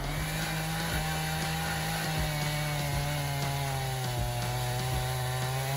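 A large chainsaw with a bar up to 1.5 meters long cuts through a big tree stump, its engine droning loud and steady throughout with no talk.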